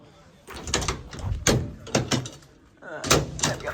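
Swedish train doors clunk and slide open with a few thuds and rattles, interspersed with brief talking nearby.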